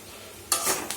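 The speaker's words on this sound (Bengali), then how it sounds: "আর এই এখন আলু ভাজছি" Potatoes in a pan burst into a sudden sizzle halfway through, with a stirring scrape, close and fairly loud after a quiet start.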